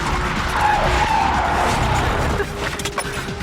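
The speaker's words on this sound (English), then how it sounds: "When I say brake, I want you to do a panic brake stop. Hit it just as quick and just as hard as you can." Car tires screech and skid on a proving-ground track during a hard panic brake stop, a loud sustained squeal over engine noise that eases toward the end.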